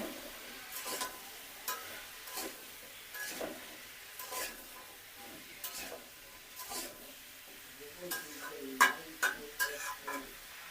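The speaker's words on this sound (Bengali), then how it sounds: "হলুদ গুঁড়া একটু নেড়ে ছেড়ে ঢেকে দিব" A spoon scrapes and stirs turmeric powder in a cooking pan with a quiet sizzle underneath, the scrapes coming in irregular strokes that grow busier and sharper toward the end.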